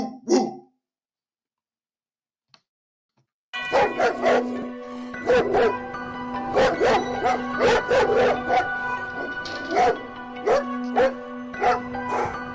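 Several dogs bark repeatedly in sharp, overlapping bursts after a few seconds of near silence, loud and close, with yips mixed in over a steady low background tone.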